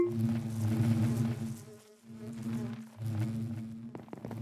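A low droning buzz of salty bees in the Minecraft All The Mods 10 modpack, steady and close, dipping briefly twice before returning.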